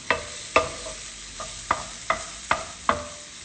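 Bacon or pancetta in a pan for pasta carbonara: regular scraping stirs, about seven in a row, over a soft continuous sizzle, close and moderately loud.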